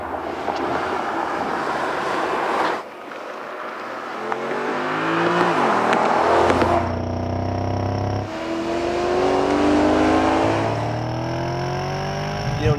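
A 2013 Porsche Panamera GTS engine while driving on a winding mountain road, revving up and down through several gear changes with rising and falling pitch, loud and close, with wind noise.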